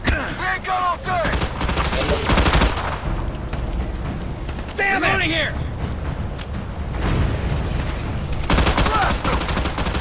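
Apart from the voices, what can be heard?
shotgun gunfire in the video game Battleship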